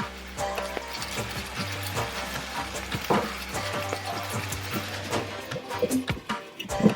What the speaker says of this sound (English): I put a lid on it and I'm allowing the beef to get cooked from the bottom of the pan